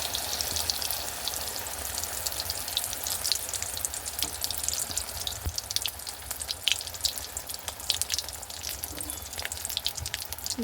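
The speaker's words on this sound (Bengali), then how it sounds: "এবার আমি লাউ ফুলের চপগুলো করে নেব।" Bottle gourd flower fritters deep-frying in oil in a kadai, giving a steady, dense crackling sizzle that runs on close and unbroken with no voices.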